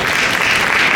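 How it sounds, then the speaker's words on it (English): A crowd at the Special Ops 2 trailer launch gives a loud, dense burst of applause, steady and continuous for about a second. "we should give sir a huge round of applause"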